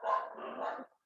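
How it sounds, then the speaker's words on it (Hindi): A single faint dog bark sounds from some distance, short and muffled, with nothing else around it. "थोड़ा कुत्ते भौंक रहे हैं।"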